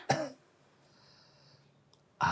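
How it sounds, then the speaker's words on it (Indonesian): A person with breathing trouble gives one close, harsh cough, followed by a quiet pause with faint background hum, then another loud cough at the end. "dari tadi kamu batuk-batuk terus"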